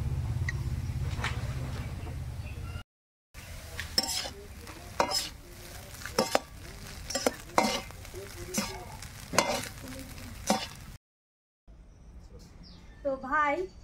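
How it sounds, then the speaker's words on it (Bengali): Maggi noodles frying with Maggi masala, a steady close sizzle with scraping stirring strokes, and voices talking over the pan for most of the stretch. "এখন ম্যাগি মশলা দিয়ে একটু ফ্রাই করে নামিয়ে নেব"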